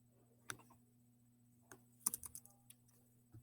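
Sparse, faint computer keyboard clicks and a few key taps land irregularly over a low electrical hum, with a short cluster of keystrokes near the middle and a louder click at the end.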